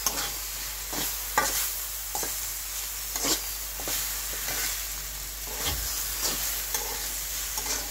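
Water lily stems frying with bay leaf, green chili, onion and garlic, a soft steady sizzle over a low hum with periodic scraping stirs of a spatula, no voices.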